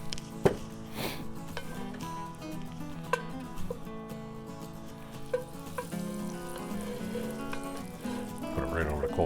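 Butter melting and sizzling in a pot set over charcoal coals on a Weber Performer grill, a steady soft crackling fry with occasional light clinks, close and moderate in level, no talking.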